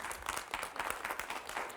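An audience claps in a steady, moderately loud burst of applause at a public forum on fixing the health-care system, with many overlapping hand claps throughout.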